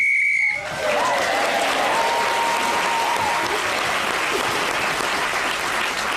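A whistle blows to end a round on a British TV comedy game show, a short sharp shrill blast, then a studio audience bursts into sustained loud applause.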